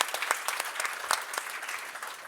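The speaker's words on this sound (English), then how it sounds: "I would really like for us to give yet one more applause to Ignite and all the" An audience at the Ignite Sweden Day 2019 event gives a brief burst of close, dense clapping that holds steady and then begins to thin out.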